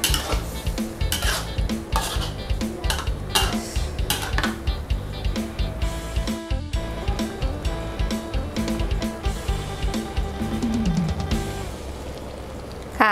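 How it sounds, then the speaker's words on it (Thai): Luffa stir-fried with egg and pork in a pan: a steady run of metal spatula scrapes and clinks against the pan, rhythmic and close, over light sizzling and soft background music, with no talking. "ผัดให้เข้ากันดีเลยนะคะ"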